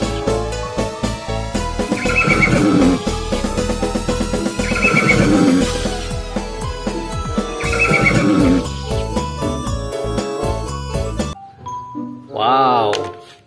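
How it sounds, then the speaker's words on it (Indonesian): A horse neighs among a cartoonish toy-style sound sequence: bright chiming tones and layered whinnying calls repeat three times, then a clear drawn-out whinny rings out alone near the end. "di sini ada hewan kuda."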